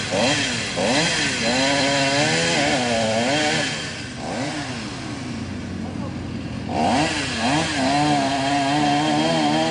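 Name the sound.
chainsaw cutting wood, bogging down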